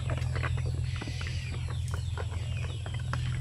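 Basilan native chickens clucking in a breeding pen, a steady loud hum running underneath the short, scattered calls with no one talking.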